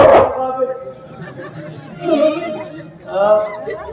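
A person imitates a dog's barking with a few loud, voiced woofs spaced a second or so apart.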